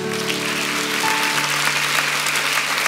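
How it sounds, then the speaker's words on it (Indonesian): A church congregation applauds in a steady, dense wash of clapping, with a low sustained organ or keyboard tone underneath and no talking over it. "kasih tepuk tangan untuk Tuhan"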